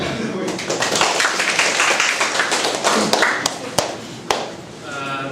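An audience at a Front-End Taiwan developers meetup claps to welcome a speaker, a dense patter of many hands that swells briefly and then thins to a few scattered claps.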